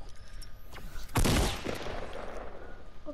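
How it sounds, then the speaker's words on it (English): Gunfire in the video game Fortnite, a sharp loud shot followed by fainter distant shots over a continuous background of game noise. "Someone is shooting."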